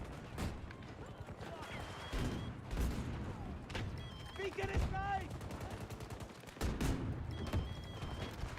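Gunfire from a video game during a live stream: scattered sharp shots and short bursts, some clustered in quick succession, over a steady background of game noise, with a faint voice at times.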